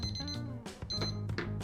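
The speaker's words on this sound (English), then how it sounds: "our timer is just about to go off" A kitchen timer alarm rings in repeated beeping bursts at close range, with a muffled voice and background noise underneath.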